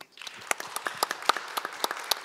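Modest applause from a conference plenary audience in a hall, a sparse scattering of distinct individual claps at moderate volume, thin rather than a full roar, lasting about two seconds.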